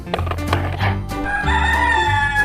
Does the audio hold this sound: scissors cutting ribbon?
no